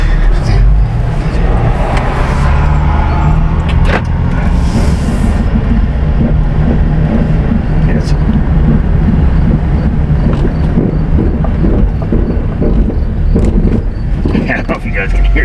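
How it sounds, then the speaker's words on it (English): A loud, steady mechanical rumble and grinding inside a moving Chevy Traverse as its ABS and traction control engage, heard close over ongoing road and wind noise. "ABS traction control's kicking on like a banshee right now."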